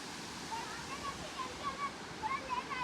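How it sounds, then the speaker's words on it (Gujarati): The Koshmal waterfall in Dang, Gujarat, a steady distant rushing roar of falling water, with faint high chirps and a murmur of people nearby over it. "એક સામે ધોધ પડે છે"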